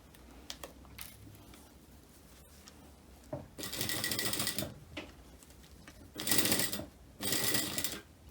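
A sewing machine stitching an invisible zipper runs in three sustained bursts of rapid mechanical whirring, separated by quieter pauses and a few small clicks.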